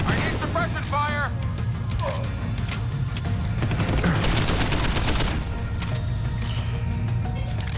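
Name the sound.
suppressing gunfire in the video game Deus Ex: Human Revolution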